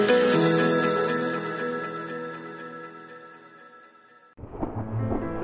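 Stormy weather effect for an agricultural advert, with a broad roaring wash of thunder and rain that fades over four seconds, cuts out abruptly, then returns with a fresh low rumble.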